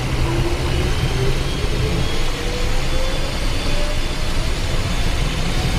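Twin jet engines of a Cessna Citation spool up for takeoff as a steady, loud, broadband roar fills the cockpit, with a faint rising whine climbing through the sustained noise.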